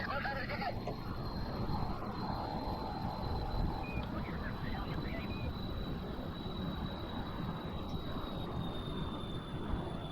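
An aircraft takes off in the video game Kerbal Space Program, a steady, even engine drone that holds at moderate level throughout with no clear rise or break.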